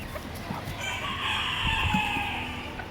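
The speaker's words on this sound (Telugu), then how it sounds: "ఇవి పెద్ద కోళ్ళు." Large chickens at an animal market in Kuwait cluck and call in a brief busy burst, with a drawn-out crow-like call through the middle and scattered nearby market noise.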